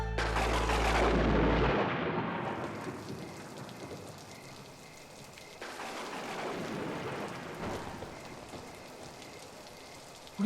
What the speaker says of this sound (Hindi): अरे बाबा, एकदम घमासान बारिश हो रहा है।